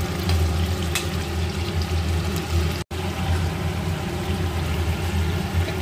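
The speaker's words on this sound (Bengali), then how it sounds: "বোনলেস চিকেনটা এটা ফ্রাই হবে ভালোভাবে।" A full kilo of boneless chicken frying in a pan gives off a loud, continuous sizzle with a low rumbling undertone, broken only by one very short dropout; no talking.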